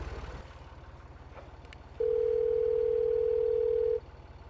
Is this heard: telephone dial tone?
yes